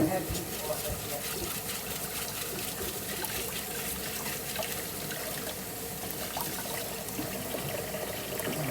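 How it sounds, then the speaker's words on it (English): Beef broth pours steadily into a cooking pot in a home kitchen, a continuous close liquid rush and splash that holds even for the whole stretch. "I'll put the broth in first. I have beef broth in here."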